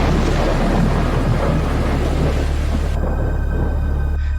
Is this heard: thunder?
yes